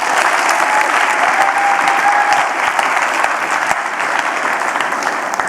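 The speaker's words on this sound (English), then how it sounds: "Big round of applause for Eoin Murphy." An audience applauds after a speaker at an HEA talk event, a dense, loud and steady clapping that fills the room for the whole stretch.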